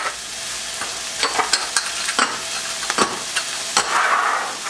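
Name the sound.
garlic and lemongrass sizzling in a pan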